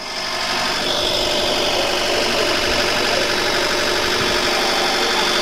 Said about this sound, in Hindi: सोलस ट्रैक्टर का वाइब्रेशन टेस्ट हो रहा है सर